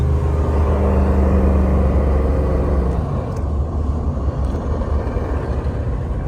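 A Mercedes R129 SL500 with the 5.0 M119 V8 and an AMG muffler, its engine revving hard with a deep rumble, then dropping in pitch on a downshift, loud and close without talk.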